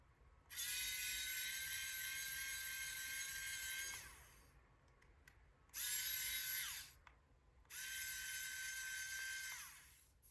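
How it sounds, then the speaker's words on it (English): A small electric screwdriver backing out two screws from the base of an SG90 servo, three steady high whirring runs of a few seconds each separated by short pauses, close and alone without speech. "There are 2 screws on the base of this, and we're just gonna remove those 2 screws."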